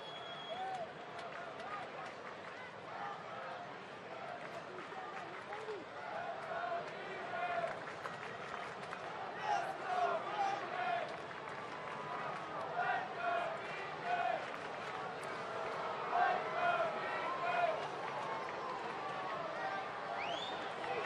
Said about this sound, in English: You hear the crowd in Atlanta trying to encourage him here in this 7th inning